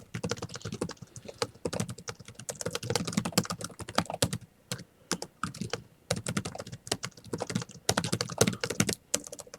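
Rapid typing on a computer keyboard while writing notes in Roam Research, close and continuous clicking with short pauses between bursts, no voices.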